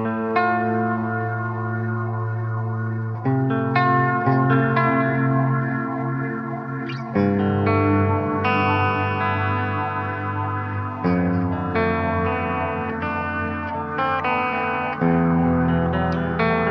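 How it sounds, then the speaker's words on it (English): Sustained guitar chords ring through an Amplitube X-Space reverb pedal, forming a lush, shimmering ambient pad that shifts every few seconds, heard alone and continuously. "as soon as you just hold those chords, it becomes this really kind of cool pad happening underneath"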